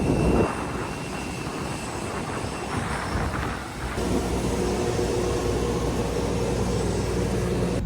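Airplane engine droning inside the passenger cabin on a flight to Crete, a steady broadband roar that shifts to a slightly different, more tonal hum midway, with no talking.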